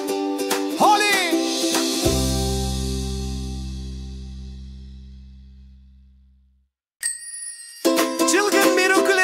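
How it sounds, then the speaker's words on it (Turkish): Bright, cheerful bell chimes from a children's forest song ring out alongside musical tones, with a long low sustained note fading out before a sharp high ding and a return of busy, jingly music. "Neşeli zil sesleri eşlik eder"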